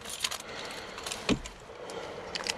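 Car keys jangling near a pair of abandoned cars, a few faint metallic clinks and rattles against quiet room tone, with one brief louder knock in the middle.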